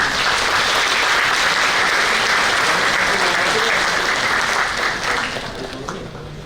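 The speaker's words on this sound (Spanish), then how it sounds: "Yo les recibo, y ustedes también, con un fuerte aplauso" A strong round of audience applause welcomes a keynote lecturer at an academic conference, dense and loud clapping that holds steady before tapering off near the end.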